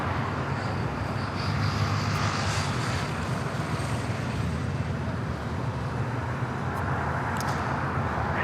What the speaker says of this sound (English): American 1668, runway 25 right. Clear for takeoff